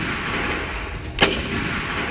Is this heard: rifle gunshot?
yes